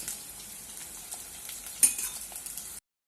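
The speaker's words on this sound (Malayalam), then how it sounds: "അതിൻ്റെ പച്ചമണം മാറുന്ന വരെ ഒന്ന് വഴറ്റി കൊടുത്താൽ മതി" Ginger, garlic, green chili and curry leaves sauté in a hot pan with a continuous close sizzle and one sharp metallic clink partway through, then the sound cuts off abruptly.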